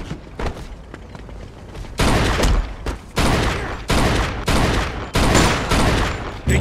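Loud, close gunfire rips through a shootout in the video game Mafia II: sparse shots at first, then heavy repeated volleys in bursts of about a second, with short gaps between.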